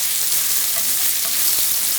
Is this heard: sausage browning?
yes